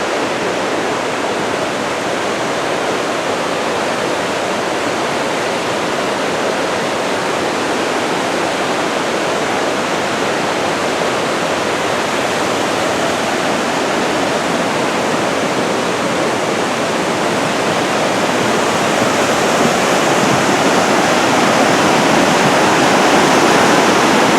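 Laughing Water Creek at Mt. Rainier runs high and rushes loudly, a steady broadband roar of fast water close to the listener that holds unbroken throughout and swells slightly near the end.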